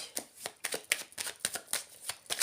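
An old, worn oracle deck is shuffled by hand, producing a steady run of soft, close card flicks and slaps at roughly even intervals, with no talk over them.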